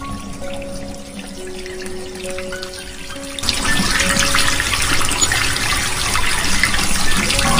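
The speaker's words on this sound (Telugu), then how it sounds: "కిచెన్లో ఏమో వాటర్ సౌండ్ వస్తున్నాయి." A kitchen tap suddenly starts running about halfway through, a steady loud gush of water that continues to the end, after a quieter stretch with a faint tonal hum.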